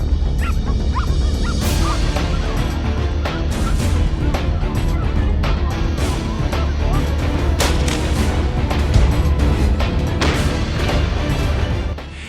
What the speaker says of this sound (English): The powerful hunting dogs are constantly chasing the wise wild boars.